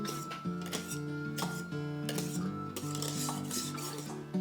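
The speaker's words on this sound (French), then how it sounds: "en raclant bien les côtés pour mélanger délicatement ma crème anglaise et ma crème montée" A spatula scrapes and folds custard and whipped cream together in a bowl for a chestnut Christmas log dessert, with soft repeated scraping and stirring strokes against the bowl sides under continuous background music.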